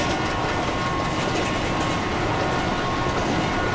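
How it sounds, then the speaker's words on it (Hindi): Bhavnagar–Kakinada Superfast Express in the Indian Railways Train Simulator, running on track under power: loud, constant wheel rumble with clickety-clack rail noise, close and steady throughout. "ये वाला भाई हॉर्न और अपनी करंट ट्रैक साउंड सुनो"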